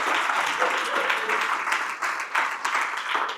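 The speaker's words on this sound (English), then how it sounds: "That deserves a round of applause." Sustained applause from a seminar audience of about 130 people, dense steady clapping throughout with slight swells, close and loud, no voices over it.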